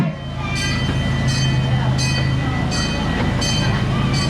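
A miniature narrow-gauge park train rolls along with a steady rumble and a regular rhythm of clacks as its wheels pass over track joints, heard close by.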